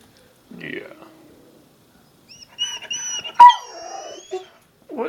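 A jealous dog whines and howls at a cat indoors: brief whimpers, then a drawn-out, wavering howl, close by, with a person talking softly in between.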